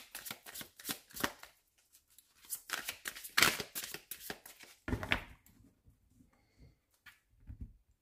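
Tarot card deck being shuffled and cut for a reading: a run of crisp riffling card bursts with short pauses, fairly close and moderately loud, then softer handling taps toward the end, no talking.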